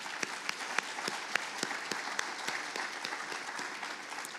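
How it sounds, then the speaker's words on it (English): Scattered, fairly quiet clapping from an audience at a school district's back-to-school convocation, with distinct individual claps standing out over a softer ongoing patter. "Let's give them a round of applause."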